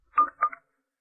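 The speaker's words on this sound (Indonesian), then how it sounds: "Aku telepon dia sekarang juga." A telephone being dialed to place a call, sounding as two quick, clean keypad beeps in close succession, followed by silence.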